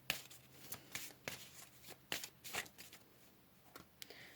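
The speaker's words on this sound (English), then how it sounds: "Let's go ahead and pull some more cards." Tarot cards are shuffled by hand, quiet crisp riffling snaps and soft slaps coming in irregular bursts, close and alone with no talk.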